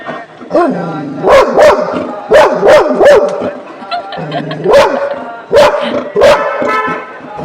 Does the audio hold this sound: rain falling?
no